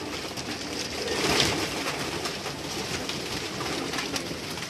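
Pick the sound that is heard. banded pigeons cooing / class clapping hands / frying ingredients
banded pigeons cooing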